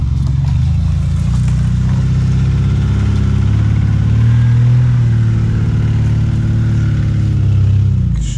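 A GAZ-69 off-road 4x4 engine drones loud and close, its low rumble steady with a slight swell in revs midway and again near the end.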